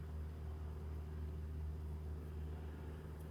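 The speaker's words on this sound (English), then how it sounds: "can you hear that plane?" Aircraft near an airfield, roughly 250 feet from a workshop, gives a steady, continuous low rumbling drone that holds at an even level throughout, with no talking over it.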